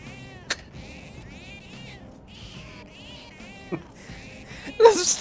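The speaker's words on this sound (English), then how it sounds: "This is truly a disgusting cat." A cat in the Persona 5 Royal video game gives several clear meows in a row, with a few sharp clicks between them and a louder burst at the end.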